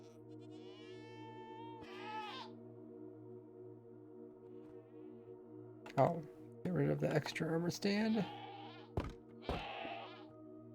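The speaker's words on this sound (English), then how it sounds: "And get rid of the extra goat" Minecraft goat bleats in a wavering, high cry near the start, followed by someone talking over steady game background noise.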